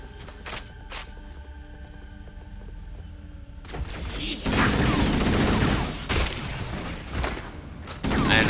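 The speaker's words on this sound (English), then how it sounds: "I think I just saw a hunter blast" Heavy weapon blasts from Hunters in Halo: Combat Evolved, on the level The Silent Cartographer, come as loud, dense bursts of fire in the second half, following a quieter stretch with a few sharp hits.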